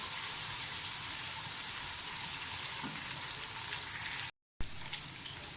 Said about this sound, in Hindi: प्याज को गोल्डन ब्राउन होने दें।